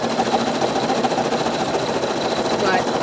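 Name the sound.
Brother Innov'is NQ1600E embroidery machine stitching the word do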